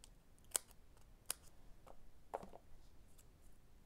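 Scissors trim the edges of paper pieces for a holiday gift tag: a few quiet, crisp snips spaced apart in an otherwise hushed room.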